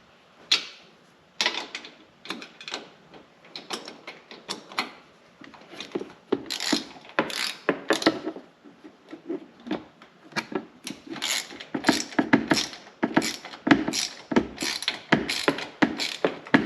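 A T25 Torx driver drives a fastener into the side of a wing mirror mount on a 2022 Can-Am Commander, making close, repeated ratcheting clicks in short bursts with brief pauses.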